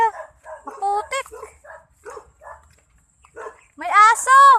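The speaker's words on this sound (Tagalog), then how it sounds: "May aso." A dog barks in a burst of several loud, close yips near the end, after scattered voices talking at a muddy house hit by Typhoon Ulysses.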